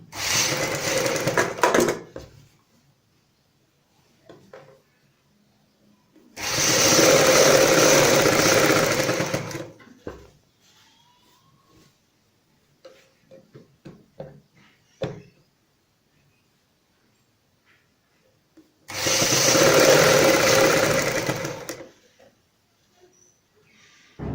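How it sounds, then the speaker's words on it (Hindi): A sewing machine runs in three separate bursts of a few seconds each while stitching the seam of a kurti along a piped edge, loud and close. Quiet handling noises fill the pauses between the bursts. "इस तरीके से दोनों सेंटर मिलाते हुए हम यहाँ पे सिलाई लगाएंगे।"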